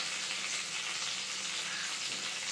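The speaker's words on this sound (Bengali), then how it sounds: "ভাজা করছি এখন," Food frying in a pan in a home kitchen, a continuous close sizzle and crackle that stays even and steady, with no talking over it.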